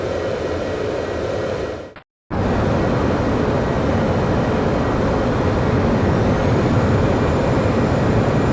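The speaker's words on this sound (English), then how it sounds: "Griffith 1, you are cleared for takeoff." Fighter jet roaring loud and steady through takeoff in the combat flight game Ace Combat X: a broad, sustained engine rumble, broken once by a split-second dropout, then continuing at full strength.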